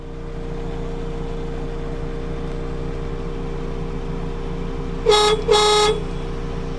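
Two short, bright horn honks from a 1972 Mini 1000 in quick succession, loud and close, over a steady engine idle hum.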